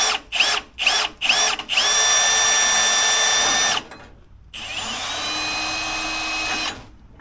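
A power drill running in reverse whirs in several short bursts, then runs in two long, steady high-pitched whines separated by a brief pause, close up and loud.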